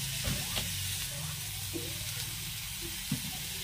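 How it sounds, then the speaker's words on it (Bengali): Capsicum fries in a little oil for a vegetarian capsicum and pumpkin dish. A soft, continuous sizzling hiss carries a few faint scrapes and taps of stirring, heard close but quiet. "এই যে ক্যাপসিকামগুলো একটু কম তেলেই ভেজে আনবো"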